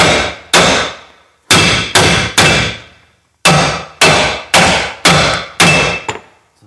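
A hammer whacks a stuck wheel bearing pin on a 2013 Nissan Titan, landing nine loud, sharp metallic blows in uneven bursts with ringing decay and short pauses between, no voices.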